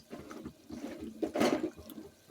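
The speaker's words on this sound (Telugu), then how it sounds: "వాటర్ వేసి కడిగేసుకుందాం" Water sloshes and splashes briefly in a container, a short burst of rinsing chopped vegetables close by, with no voices.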